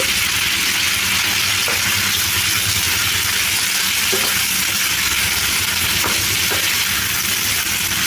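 Spiny gourd tomato curry with salt sizzles loudly and steadily in a pan while it is stirred, giving a constant hissing fry with faint scraping now and then and no speech.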